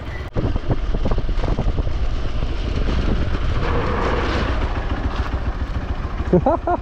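A motorcycle grinds up a steep, rocky slope, its engine labouring in a steady, close drone while someone talks over it throughout.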